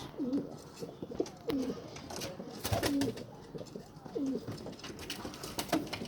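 Pigeons kept in a balcony loft coo repeatedly in soft, throaty phrases every second or so, fairly close, with faint clicks and rustles between calls.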